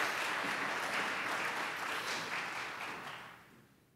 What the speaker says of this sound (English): could you give them a round of applause for putting this program together?